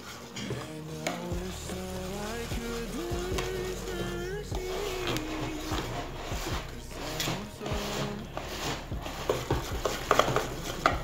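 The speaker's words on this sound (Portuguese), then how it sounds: "E vou colocar a farinha de trigo. misturar bem." A spoon stirs wheat flour into a buttery carrot cake batter in a bowl, giving soft repeated scraping and knocking against the sides for several seconds, with faint kitchen clatter and no talking.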